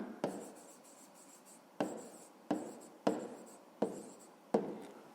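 Numbers are handwritten during a fifth-grade math lesson, with six distinct scratchy pen strokes spaced at uneven intervals, close-up and soft, each trailing off quickly in an otherwise quiet room.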